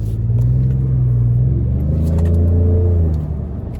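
A 2015 Ford F150 Platinum with a V6 turbo EcoBoost and fresh spark plugs on a test drive, its engine giving a loud, steady low rumble that rises slightly in pitch before easing off.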